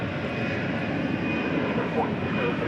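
An American Airlines Airbus A320 jet roars steadily as it takes off at an airport, a broad sustained engine rumble and whine that holds level throughout, with a faint voice underneath.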